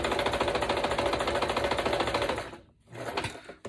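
Sewing machine stitching down quilt batting, a fast steady mechanical chatter close up that stops briefly, then restarts for a short burst.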